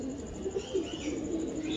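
Sialkoti pigeons of an old bloodline coo in a low, soft, repeated murmur, with faint high chirps over a steady background hiss.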